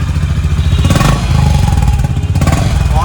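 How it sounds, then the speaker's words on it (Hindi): A brand-new motorcycle idles at its first start-up with a loud, close, lumpy exhaust note, thumping and rattling with a brief blip of revs partway through. "थोड़ा बहुत सुनाओ एग्जॉस्ट नोट।"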